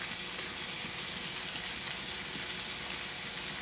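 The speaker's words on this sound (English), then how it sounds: "So we're just frying it off." Chicken gizzards with tomato puree fry in a pan, a constant close crackling sizzle with a dense hiss that holds steady throughout, with no voices.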